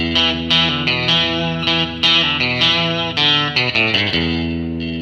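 Electric guitar with heavy effects and distortion plays a lick from the gospel song You Just Can't Beat Jesus Christ, a string of sustained, chorused notes and quick slides, loud and alone without talking.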